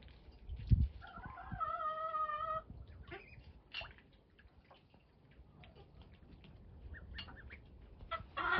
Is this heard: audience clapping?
no